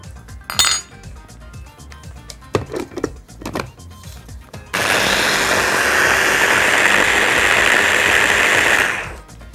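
A blender whirs loudly and steadily for about four seconds, blending basil, minced garlic and olive oil into a sauce, then cuts off; before it starts come clinks of glass, dishes and utensils.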